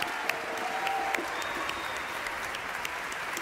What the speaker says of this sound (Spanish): A Federico Sardella, un aplauso muy grande.